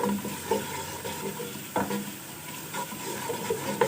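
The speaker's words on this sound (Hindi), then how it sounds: "हम इसमें 1 चम्मच सफ़ेद ज़ीरा भर के डालेंगे, ठीक है जी। इसको सौटे करेंगे हल्का सा" Cumin seeds sautéing with onions in a pan, a close sizzle under repeated scraping strokes of a spoon against the pan, with a louder clank near the middle.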